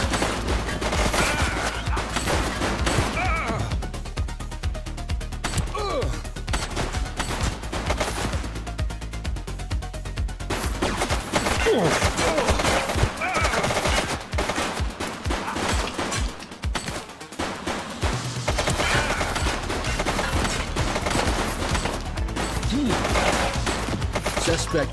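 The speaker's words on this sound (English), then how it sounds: "Shots fired!" Repeated bursts of gunfire from The Precinct, a police video game, crackle through a dense, loud game soundscape with music and effects, coming in clustered volleys over the whole stretch.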